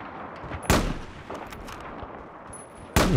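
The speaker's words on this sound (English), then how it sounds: "Get out of here, you mortar." Mortar fire in Battlefield 4 lands as two sharp, loud booming blasts, one early and one at the end, with smaller muffled impacts and rumble in between.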